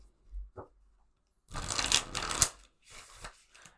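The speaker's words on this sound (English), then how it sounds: "let me know if they like to see shuffling or if they just like to go straight into the message" Tarot cards are shuffled for a pick-a-card reading: a quick short riffle, then a long crisp burst of shuffling followed by another brief flurry, close and clear in a quiet room.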